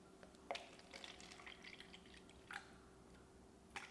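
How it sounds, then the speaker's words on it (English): Decaf coffee poured into a cup at a café counter, a quiet, sparse trickle with a few soft splashes and drips spaced apart over a faint background hiss, with no talking. "I'm gonna pour in the coffee"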